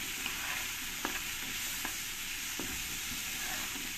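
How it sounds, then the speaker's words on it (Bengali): Diced potatoes frying in oil with salt and a light sprinkle of turmeric give a steady, soft sizzle, broken by a few sharp clicks of stirring. "আলুগুলো তোমরা চাইলে একটু বেশি বেশি করেও ভেজে নিতে পারো"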